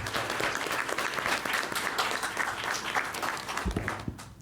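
Conference audience applause for presenters at a session on federal veteran homelessness programs, dense continuous clapping that fades out near the end.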